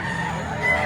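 A bulik gamecock rooster crows at a busy chicken market in Batangas, a short, loud, close call over a steady murmur of background noise.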